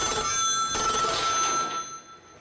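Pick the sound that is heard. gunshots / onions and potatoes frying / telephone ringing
telephone ringing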